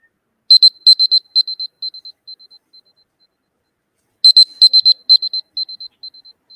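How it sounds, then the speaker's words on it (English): Electronic time-up buzzer for a trading competition presentation panel, sounding as two bursts of rapid repeated high beeps that thin out and fade, separated by a short silence, fairly loud and alone. "there will be a buzzer which will sound like this"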